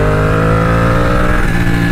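Ducati Panigale 899 fitted with Termignoni titanium exhaust pipes revving close by, a loud, rough-edged V-twin roar that holds steady and then climbs slightly, with no voices over it.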